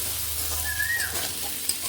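Plain potato pieces sizzle softly in an oiled pan with no spices, a steady close frying hiss with a faint bird call in the background.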